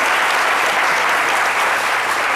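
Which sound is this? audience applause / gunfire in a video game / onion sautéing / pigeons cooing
audience applause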